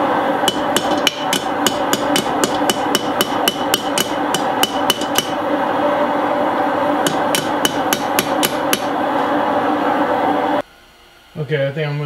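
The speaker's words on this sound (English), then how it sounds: "So I'm gonna try and pound them in so I can, you know, fill that gap essentially." Steel hammer blows pound horseshoes into place before welding, in fast bright bursts of ringing strikes, then a pause and another run of hits, loud and close, ending with a brief quiet moment.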